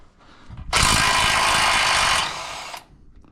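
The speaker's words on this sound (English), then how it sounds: "That's another 18mm, so I am just going to impact that right off." An impact wrench rattles loose an 18mm lower shock absorber bolt on a Ford F-350 Super Duty, one loud close burst of hammering lasting about two seconds, then the tool winding down.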